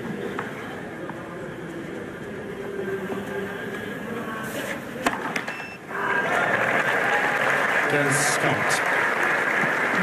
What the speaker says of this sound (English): Mahut has this crowd rocking